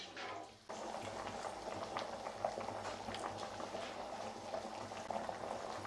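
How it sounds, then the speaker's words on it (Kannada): A pot of water with vegetables and spices for khara bath (vegetable upma) boils vigorously, giving continuous close bubbling and gurgling with no talking. "ಚೆನ್ನಾಗಿ ಕುದಿತಾ ಇದೆ."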